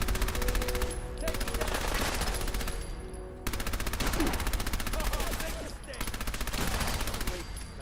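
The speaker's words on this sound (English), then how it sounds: "we're just gonna come in here and see what we can do with submachine guns for a little bit against the trigger men" A submachine gun with a 100-round drum magazine in Fallout 4 rattles in sustained rapid bursts with short pauses between them. The fire is loud and continuous, with no talk over it.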